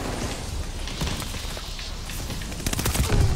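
Rapid automatic gunfire from a weapon in the video game Call of Duty Vanguard, a loud continuous rattle of shots that grows heavier and more punchy toward the end.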